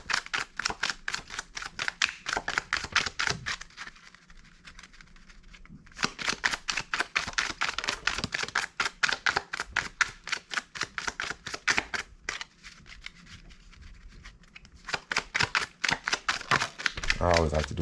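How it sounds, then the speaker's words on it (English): Rapid, crisp riffle of playing cards being shuffled, several bursts in a row separated by short pauses, close and loud. "I always like to do 3 shuffles before I even look at what fell"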